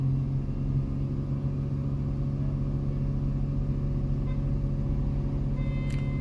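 A 2005 Honda Pilot engine runs at close range with a steady, loud, dense rumble, holding fairly even while gas is given, with no talking.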